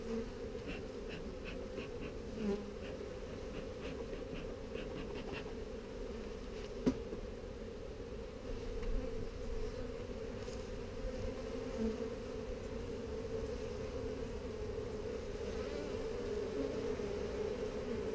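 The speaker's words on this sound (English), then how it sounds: "there's the frames with all the bees on them" Honey bees swarm over worker-covered hive frames, a steady close buzzing hum that holds throughout, with a few light knocks and handling sounds and no talk.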